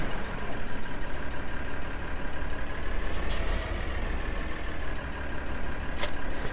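A tractor engine running in Farming Simulator 2013, a steady loud droning rumble with a fluttering low throb and a few brief hissing bursts, continuous and close, with no talking.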